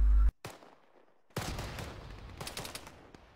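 Artillery fire in the military video game Arma III, a sudden loud blast that cuts off, then a heavy impact followed by a rumbling roll of explosions and scattered crackling.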